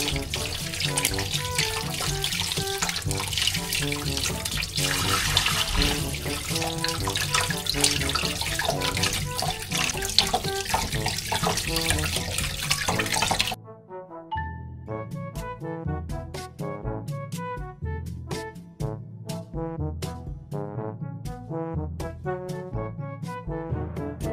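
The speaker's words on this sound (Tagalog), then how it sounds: "atin lang po itong hugasan ng ating binalatan na kamuting kahoy" Running water splashes steadily as peeled cassava roots are washed, a loud, continuous gush and churn that drops abruptly midway into lighter, patchy splashing and dripping, with no voices.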